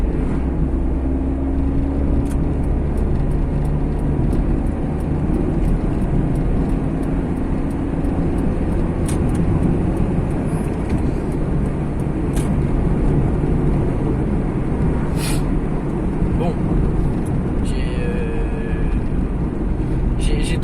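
A small car drives and overtakes on the road, giving a loud, steady low engine and road rumble with wind noise throughout, while someone talks over it.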